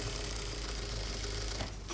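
A sewing machine stitches the corner of a blouse with a larger stitch setting, running as a steady, continuous mechanical whir with a low hum underneath. It is moderately loud and alone, with no voices.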